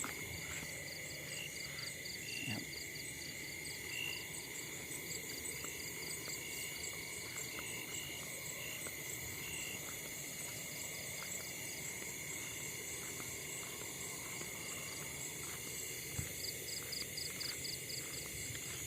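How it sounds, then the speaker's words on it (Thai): A dense night chorus of crickets trills steadily and continuously, with faint frog-like calls scattered underneath. "เสียงจิ้งหรีดล็อกเหมือนเดิม"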